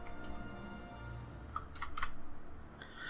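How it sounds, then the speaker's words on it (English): Someone hunt-and-peck typing on a computer keyboard, with slow irregular key presses and a few quick clusters of clicks, close and clear over a low hum. "I'm a bit of a hunt and pecker when it comes to typing."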